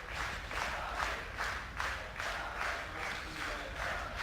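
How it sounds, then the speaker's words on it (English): A large crowd at a Dota 2 esports match claps in a steady rhythmic beat, with a broad roar of cheering and voices beneath, sustained throughout. "The clap, the frenzy builds faster and faster"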